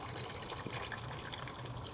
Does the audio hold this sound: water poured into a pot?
yes